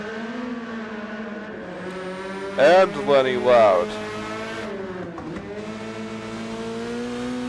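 Race cars in a Twingo Cup video game race at the Nurburgring GP, a steady engine drone with a brief burst of revving and tire noise, under continuous commentary voices.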